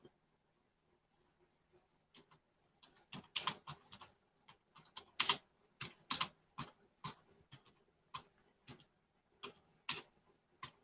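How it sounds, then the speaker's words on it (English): Irregular bursts of key clicks from a computer keyboard, close and crisp, with uneven pauses between clusters of keystrokes in a quiet room. "you can see me typing."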